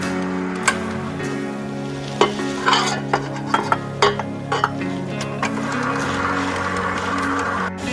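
Dry ingredients are stirred into eggs, honey and molasses for Calabrese mostaccioli Christmas cookies, giving a loud, close scraping and churning with scattered clinks of a utensil against the bowl, continuing steadily without talk.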